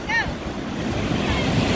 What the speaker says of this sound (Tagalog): Oh, may alon. Nakaw, may alon.